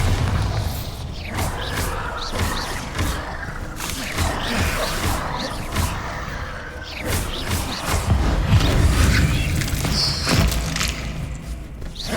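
Bombarda blasting spell in the Hogwarts Legacy video game, heard as a run of booming thumps and crashes amid dense combat effects, whooshes and clatter, continuous and loud over the whole stretch.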